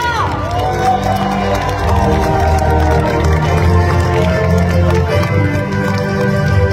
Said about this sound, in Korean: 우리 당의 지도부를 향해서 아낌없는 큰 박수 부탁드립니다